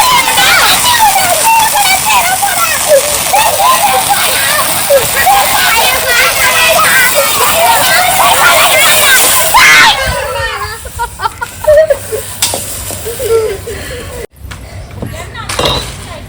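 A kadai pan is washed with splashing, sloshing water, a loud continuous rush for several seconds that then breaks into scattered splashes and clanks as a voice talks over it.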